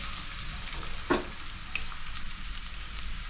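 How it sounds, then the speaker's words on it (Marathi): Onion sizzles in hot oil for a Maharashtrian clam curry, a steady close frying hiss with one sharp utensil knock midway and light stirring after. "आता काय टाकणार कांदा कांदा गरम झालं आवाज येते आज आवाज येते गरम झाला"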